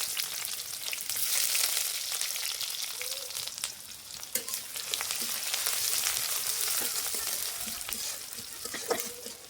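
Onions, bay leaves and dried chillies sizzle in hot oil in a pan for lentils, a bright continuous frying hiss with occasional scrapes and clicks from stirring, close and fairly loud, no talking.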